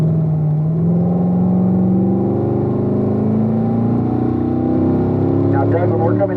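Race car engine on a track session accelerating hard with a rising whine, climbing in pitch as it shifts up toward fourth gear, loud and continuous, with a coach's voice talking over it.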